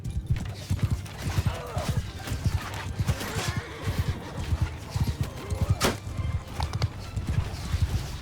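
Horses' hooves clatter in a rapid galloping rhythm in a battle in the video game Mount & Blade 2: Bannerlord, with a brief whinny partway through and faint mechanical clicks in the background.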